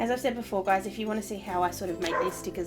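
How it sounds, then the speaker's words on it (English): A pet dog barks and yips in short bursts indoors, mixed in with a person talking steadily over it at close range. "excuse my dog, he's just barking."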